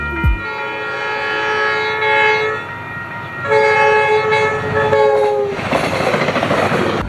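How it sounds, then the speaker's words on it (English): A southbound FrontRunner commuter train led by cab car 101 sounds a long, loud horn show: sustained chords in two extended blasts with a brief gap, over the rumble and clatter of the passing train, closing in a noisy rush. "I would see this southbound FrontRunner with cab car 101 leading, with the engineer giving me a horn show."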